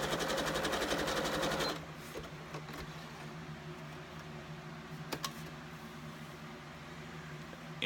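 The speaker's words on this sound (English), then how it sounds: "So we're just going to do a normal width zigzag that looks great." Sewing machine running a normal-width zigzag stitch with thick thread in the bobbin, a loud rapid mechanical rattle for the first two seconds, then stopping to a quiet room hum with a few faint clicks.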